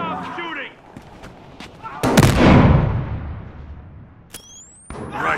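Gunfire in the PS4 video game Battlefield Hardline: a loud heavy blast booms and rolls away, among sharper shots and bursts, with game voices shouting.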